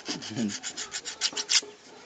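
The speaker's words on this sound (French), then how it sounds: "La lime doit être sollicitée pour aiguiser notre couteau." A metal file rubbed in repeated even strokes along a knife blade to sharpen it for harvesting, about a dozen rasping passes in a steady rhythm, close and fairly quiet, with no talking.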